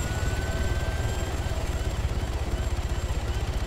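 A helicopter's rotor thumps in a steady, fast rhythm under a constant engine whine inside a multiplayer video game, loud and close throughout.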